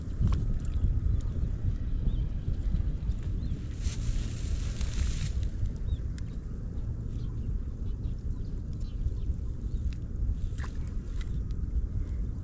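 A motorboat engine runs steadily on open water, giving a low, continuous drone mixed with wind buffeting the microphone. A brief hiss rises partway through, and no one speaks.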